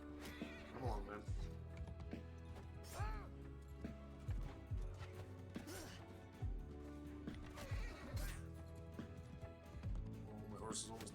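A horse gallops in battle in the Mount & Blade II: Bannerlord video game, with rhythmic hoofbeats, a whinny and clashing game effects under someone talking.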